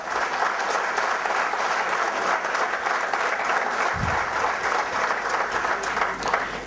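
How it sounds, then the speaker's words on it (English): An audience at an event in Chennai applauds, giving dense, steady clapping that stays loud and continuous from start to finish with no voices over it. "Big applause for the people who have come outside Chennai."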